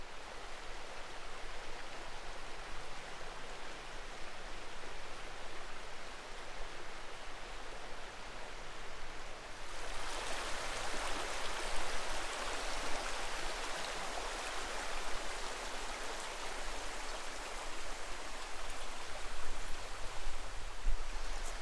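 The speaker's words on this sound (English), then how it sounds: "This is the river South Esk." Water of the River South Esk rushing steadily along a lush little valley near Temple, a continuous broadband wash that swells louder and brighter about halfway through and holds there without voices.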